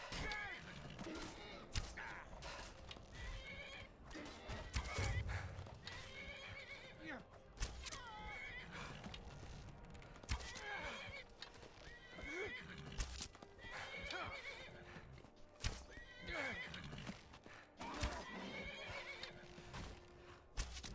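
Horses whinny repeatedly in short bursts over hoof clip-clops and game sound effects in the video game Skyrim, with occasional low voices underneath.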